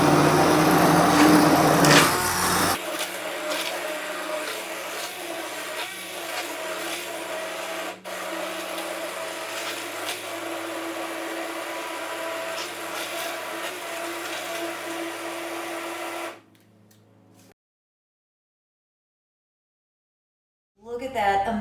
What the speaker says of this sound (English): Immersion blender is one of the greatest tools that you can have in your kitchen